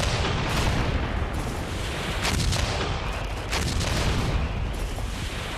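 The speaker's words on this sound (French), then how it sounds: "l'offensive de l'armée rouge débute, comme d'habitude, par un gigantesque barrage d'artillerie" A Red Army artillery barrage opening the January 1945 offensive in World War II, with loud, continuous booming and rumbling bombardment and repeated heavy blasts over dense battlefield noise.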